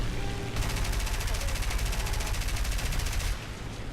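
A biplane's machine guns in War Thunder fire one sustained rapid burst lasting about three seconds, a dense, close, fast-ticking rattle over a steady engine drone.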